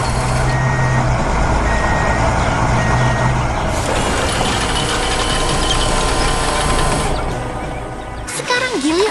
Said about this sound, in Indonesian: Dan lihat, truk molen pun tiba tepat pada waktunya.